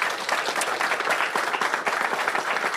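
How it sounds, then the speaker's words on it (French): At a school food program press conference, a room of attendees gives the prime minister a warm round of applause, dense overlapping claps with slight swells, fairly close and loud, with no voices over it. "je pense qu'on peut lui donner une bonne main d'applaudissement au premier ministre aussi"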